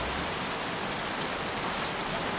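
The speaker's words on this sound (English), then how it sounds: "Goddamn rain. Soaking wet." Steady, dense rain hisses continuously on surfaces in the game Heavy Rain, an even, fairly loud wash with no talk or other sounds.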